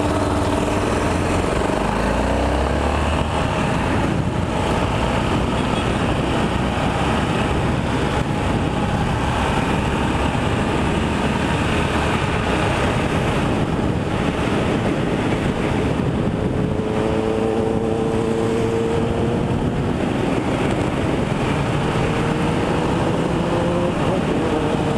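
Yamaha XT 660R motorcycles pulling away from a gas station produce a loud, continuous engine drone with wind rush that holds steady throughout, with no one talking.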